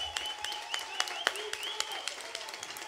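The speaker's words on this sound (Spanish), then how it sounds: "Párense y apláudanlo" Audience at a music tribute clapping for a former musical director, a steady patter of claps with some sharper individual hits, fairly distant and moderate in level, with faint whistles or voices mixed in.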